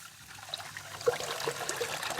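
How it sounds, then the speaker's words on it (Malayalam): Water trickles and splashes over rice in a bowl being washed for chicken biryani, a faint, continuous pour close by. "ഇനി വെള്ളം ഒഴിക്കുക, കുറച്ച് വെള്ളം ഒഴിക്കുക"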